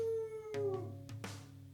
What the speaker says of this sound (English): Why are the dogs having this whole thing right now?